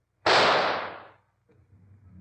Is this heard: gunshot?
yes